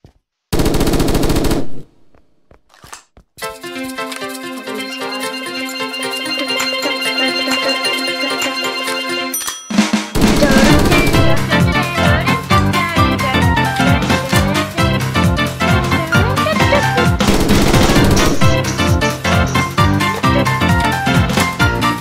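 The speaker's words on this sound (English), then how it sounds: "What about we get our super overpowered machine gun?" An oversized, overpowered machine gun in the Brick Rigs video game fires long rapid bursts, loud and continuous, over game music, after a few short opening shots.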